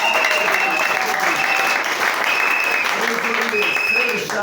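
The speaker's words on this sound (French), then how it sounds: "vous allez d'abord acclamer" A church youth gathering at a tabernacle in Fungurume applauds and cheers, a continuous loud wash of clapping under a voice talking over it.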